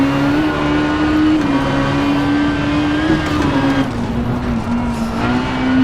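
Peugeot 306 Kit Car engine droning steadily on tarmac in Richard Burns Rally, a continuous close engine tone holding pitch with slight dips and rises as the car drives, alone without talk.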